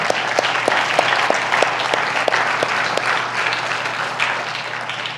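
A church congregation applauds during a sermon, loud sustained clapping with a few sharp individual claps standing out in a rhythmic pattern over a low steady hum.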